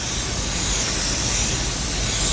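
A spray gun lays a wet coat of paint over a freshly sealed edge, giving a steady, close, continuous hiss with nothing else heard.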